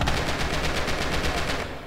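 Rapid gunfire bursts in a Red Orchestra–style Wolga tournament match, Axis attackers pushing in under a steady rattle of machine-gun and rifle fire that continues densely and loudly throughout.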